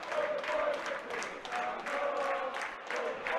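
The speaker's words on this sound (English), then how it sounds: "Giants clapping and cheering their team through the final 35 seconds or so left in this game" Belfast Giants fans at an ice hockey game, clapping and cheering in a steady crowd roar that rises and falls in waves through the closing seconds of the match.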